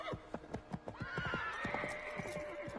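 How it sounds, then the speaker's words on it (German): A horse whinnies in a long, drawn-out call over several loud hoof clip-clops in a snowy setting in Assassin's Creed 3, with no talking. "Tschüss, Pferde."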